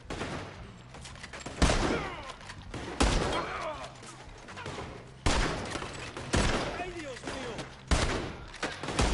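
Repeated bursts of gunfire from a gunfight in the video game Red Dead Redemption 2, several loud sharp volleys spaced a second or two apart with lingering echoes, under scattered voices.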